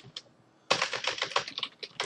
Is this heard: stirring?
no